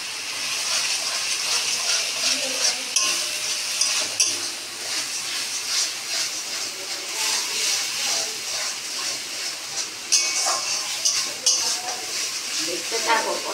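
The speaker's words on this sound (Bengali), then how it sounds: "দেখতে থাকো কত সুন্দর মশলাটা হচ্ছে কষা।" Masala sizzles and fries in a pan for Bengali-style onion pomfret, a steady loud hiss broken by clinks of stirring.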